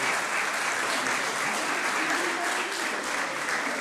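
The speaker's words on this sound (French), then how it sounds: "Et on applaudit les récipiendaires" Audience applauding award recipients at a business trophy ceremony, a dense, steady clapping that fills the room from start to finish with a faint murmur of voices underneath.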